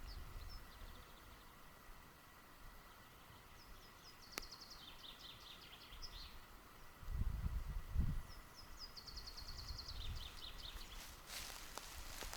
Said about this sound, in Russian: Птички поют. Слышите?